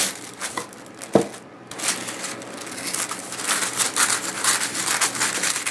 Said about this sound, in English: this is really pretty tissue paper